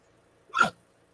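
A single sharp hiccup, close and fairly loud, standing alone against a quiet room with no talk around it.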